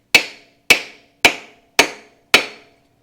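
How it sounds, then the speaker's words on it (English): A hammer strikes a wooden block five times at an even pace, on a 1975 Kawasaki KE125 motorcycle, each sharp knock ringing briefly before fading. "I have a block of wood and a hammer, let's just see if we can wallop on this"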